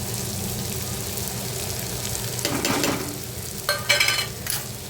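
Spices frying in oil with shrimp and potato, a continuous close sizzle that grows louder with stirring bursts and scraping near the middle and end.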